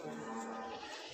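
Dense, steady din of buffaloes and other livestock at the Kattupudussery cattle market, a continuous crowded wash of animal calls and bustle with no clear single voice standing out.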